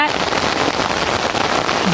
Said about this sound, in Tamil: மழை பாருங்கள் ரொம்ப ஃபுல்லாக இருட்டிக்குச்சு ரொம்ப மழை தாங்க